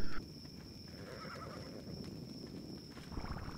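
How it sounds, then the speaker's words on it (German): A horse neighs in the video game ARK: Survival Plus, with a short loud burst at the start followed by a softer whinny and light clip-clop hoof steps over a steady game background. "Warum steht hinter mir jetzt ein Pferd?"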